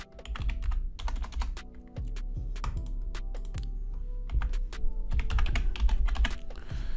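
Rapid, close keystrokes on a computer keyboard come in irregular bursts of clicky taps as a word is typed, with no talking.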